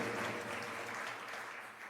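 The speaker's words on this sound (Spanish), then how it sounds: "Damos un aplauso." Audience applause at a Spanish-language sermon gathering, a dense steady wash of clapping from many hands, fairly distant and even, fading slightly toward the end.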